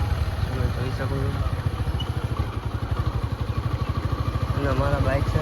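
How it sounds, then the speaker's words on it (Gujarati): Motorcycle riding in second gear on a rough rain-damaged village road, its engine thumping in a steady rapid rhythm close to the microphone, with a voice talking over it at moments. "અમારા બાઇક છે ને એ બીજા ગેરમાં ચાલે છે"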